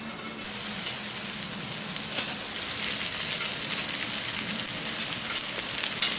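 Sausage sizzles on a Camp Chef Sidekick griddle, a steady close crackle and hiss that swells slightly and stays continuous with no talking.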